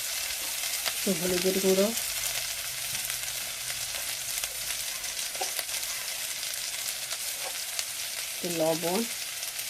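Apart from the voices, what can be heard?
frying spice paste (masala) with turmeric and salt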